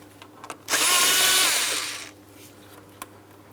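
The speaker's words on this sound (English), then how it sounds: "We'll be using an 8mm for each of these clamps." An 8mm socket on a power tool spins to loosen a hose clamp near the intake plenum of a 2003-2007 Cadillac CTS 3.6L V6, giving one close, loud whirring burst of about a second and a half.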